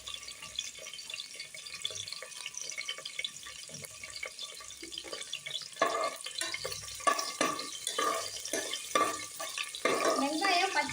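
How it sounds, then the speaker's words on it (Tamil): Cinnamon, fennel, onion and garlic sautéing in oil for home biryani give a steady, moderate crackle, stirred with soft scraping strokes that grow busier and louder toward the end. "பட்டை, சோம்பு, வெங்காயம், பூண்டு இதெல்லாம் போட்டு வதக்கிக்கணுங்க"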